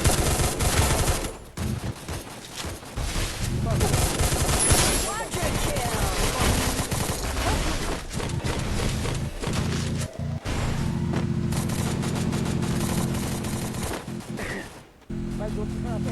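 Video game gunfire: rapid automatic bursts and single shots crackle almost nonstop over a dense game soundscape, with a brief dropout near the end.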